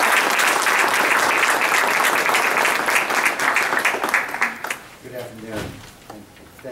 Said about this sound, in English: I ask you all to give a big round of applause to the mayor of San Jose